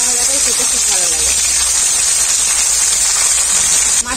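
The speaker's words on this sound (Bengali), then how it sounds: "মাছের আমি এক পিঠটা হালকা করে ভেজে নিয়েছি, আরেক পিঠটা পাল্টে নেব" Pieces of rohu fish frying in a little hot oil, a loud, steady, close-up hiss of sizzling that runs unbroken throughout, with faint tonal murmurs early on.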